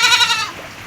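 Goats bleat loudly in a flooded goat house, several overlapping harmonic cries close by in the first half, then trailing off into a quieter wet background.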